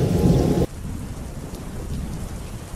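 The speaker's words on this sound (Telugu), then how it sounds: "బాగా వర్షం పడుతుంది." Heavy rain and thunder from a skit sound effect, a loud rumbling burst at the start that drops to a steady, softer downpour hissing on alone.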